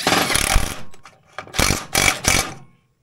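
A power tool drives a 3/8 bolt on a vintage Polaris XLT snowmobile chain case: a loud whirring burst, a pause with small clicks, then three short punchy bursts close by.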